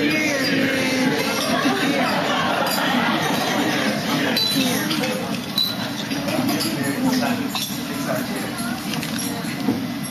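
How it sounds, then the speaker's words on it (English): Glasses clink softly during a wedding toast, scattered light chinks amid a steady murmur of guests and crowd noise in a reception hall. "everybody guys raise their glass and toast to Chiyoung and Ben"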